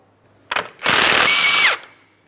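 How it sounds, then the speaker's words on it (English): A short clack, then a loud sustained whirring grind from a power tool spinning a 34mm socket on an axle nut of a 2004-2008 Pontiac Grand Prix for about a second before winding down. "Go ahead and remove that axle nut using a 34mm socket."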